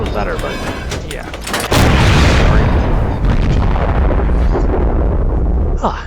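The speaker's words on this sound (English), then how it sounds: "that was a rather exciting barrage, wasn't it?" Tank cannon shells from a tank video game fire in a heavy barrage of booming blasts: several sharp reports, then a loud sustained rumbling explosion that rolls on and slowly fades.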